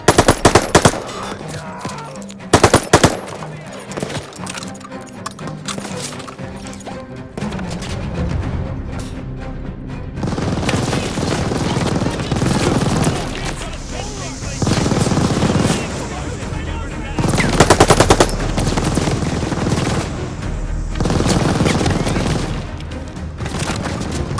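Battlefield combat in Call of Duty Vanguard during Operation Tonga: bursts of machine gun fire and scattered gunshots keep rattling, with booming explosions among them, under a dense, continuous din that runs for the whole passage.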